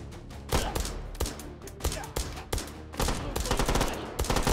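Rapid bursts of automatic gunfire in the VR shooter Hot Dogs, Horseshoes & Hand Grenades on its Monolith custom map, loud, close and dense, with sharp repeated shots stacking into fusillades.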